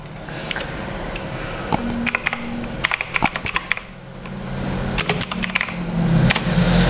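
Fingers type on a computer keyboard in quick, irregular bursts of crisp clicking keystrokes, close and clear, with short pauses between runs.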